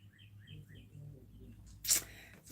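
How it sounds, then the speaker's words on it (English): Small birds just outside a window give a few faint, quick chirps in a short series over a quiet indoor hum, followed by a brief louder noise. "Y'all hear the bird chirping?"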